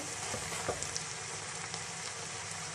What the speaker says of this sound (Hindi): 2 से 3 मीडियम साइज़ के प्याज थे जिनको मैंने चॉप कर लिया है, ये इसके अंदर शामिल करेंगे, मिक्स करेंगे।